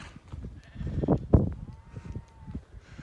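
Sheep bleat nearby on a rural walk through a Cumbrian Lake District village, a couple of short bleats rising from soft background rustle and footsteps, with a faint drawn-out tone trailing after.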